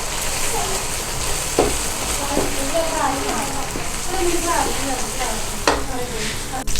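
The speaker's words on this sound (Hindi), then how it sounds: "तो इसको अच्छे से फ्राई करेंगे मसाले के अंदर।" Eggs fry in spiced masala for shahi chana with a continuous sizzle, scraping stir strokes and occasional clatters from the pan.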